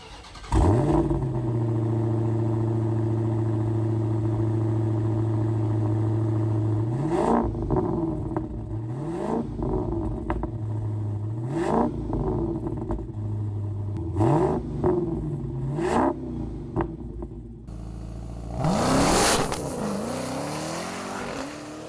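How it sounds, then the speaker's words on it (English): A 2023 Dodge Challenger SRT Demon idles with a deep burble, then its exhaust roars through a series of sharp full-throttle revs rising and falling, ending in one loud final blast, close and without talk. "And the exhaust, that sounds pretty amazing as well."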